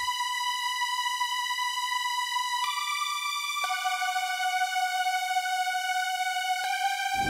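A bright, buzzy super saw synth lead holds steady sustained notes, stepping down in pitch a few times, then cuts off abruptly at the end.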